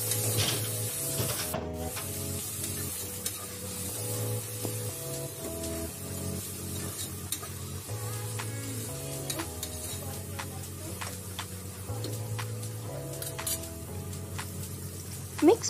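Peas and coriander being stirred in a pan for palak pulao, a soft steady scraping and shuffling with a light sizzle underneath, close by and continuous with a few sharper knocks.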